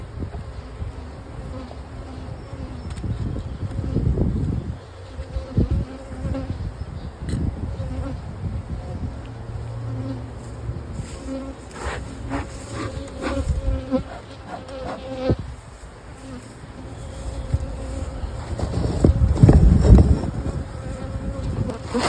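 Honey bees buzz loudly and continuously around a hive as it is worked in the rain, with the combed frames being rearranged. Close wings drone on and off, and bumps and knocks from handling the hive come through in places.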